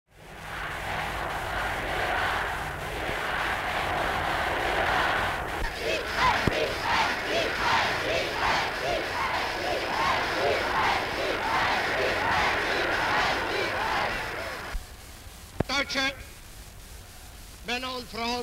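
A huge crowd in Vienna's Heldenplatz in 1938 roars and cheers in a sustained, loud wash of voices with rhythmic chant-like swells, then cuts off into quieter background with a few sharp sounds near the end.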